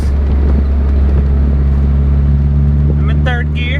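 A Honda Del Sol cruises in third gear after a transmission repair, its engine droning as a steady low hum with road and wind rush, close and loud throughout, and brief higher squeaks near the end.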